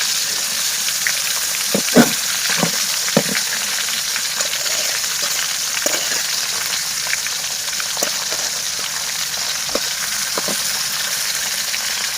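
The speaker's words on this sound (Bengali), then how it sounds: "মাছ ভাজিতে এবার ঢাকনা দিয়ে ডেকে দিয়েছি" Pangas fish fries in a pan, a steady loud sizzle with scattered pops and spatters across the whole stretch, no voices over it.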